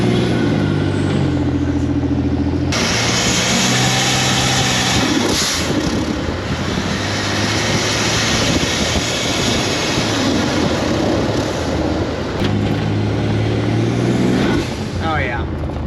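A turbocharged junkyard engine in a pickup truck idles roughly and climbs into loud revs, with steady harmonic drone and surges, up close and continuous throughout.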